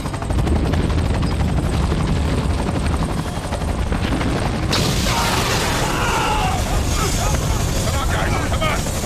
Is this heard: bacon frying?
no